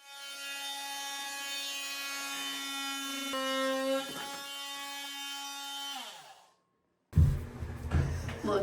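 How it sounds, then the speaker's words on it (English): A saw works steadily through a wooden vanity cabinet to open a hole for a drain, a sustained rasping with tonal ringing that breaks off, goes quiet, then resumes in rougher bursts. "All we need to do is cut a hole in the cabinet for this to come through"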